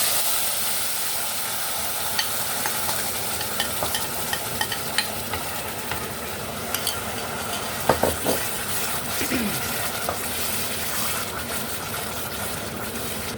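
Chutney simmering and bubbling in a pot as it is stirred, a steady soft sizzle and hiss with occasional light scrapes and clinks of a spoon against metal, close and continuous.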